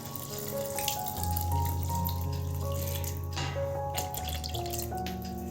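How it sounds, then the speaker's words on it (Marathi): Water pours steadily onto chana dal in a cooking pan for bottle gourd curry, making a continuous splashing gurgle at a moderate, even level. "ह्यामध्ये आपली ही चण्याची डाळ आहे ती व्यवस्थित शिजावी तेवढं आपल्याला पाणी टाकायचं आहे"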